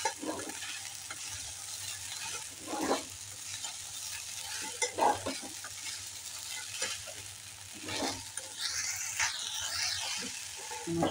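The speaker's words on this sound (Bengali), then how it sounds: "এবার খুব ভালো করে এটা নাড়াচাড়া করতে হবে" A spatula stirs sabudana poha, tapioca pearls with potato, in a pan with a soft sizzle and intermittent scraping and rustling strokes, close and fairly quiet.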